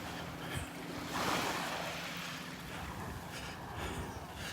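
Surf washing onto a Gulf beach at Delnor-Wiggins, a steady broad rush of breaking waves with a swell in the middle, mixed with light wind buffeting the microphone, no voices.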